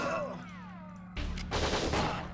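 SMG gunfire in the video game Winback: Covert Operations, a burst of rapid automatic shots that breaks in partway through after a stretch of tonal game music, loud and continuous to the end.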